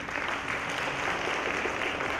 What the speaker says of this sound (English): Please another big round of applause.